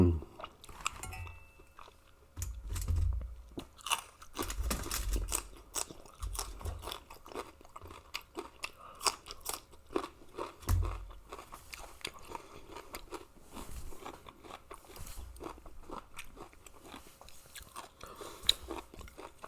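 Crunchy white kimchi eaten with fresh salmon produces close, repeated crisp bites and wet chewing in irregular bursts, each crunch followed by softer mastication, with no talking.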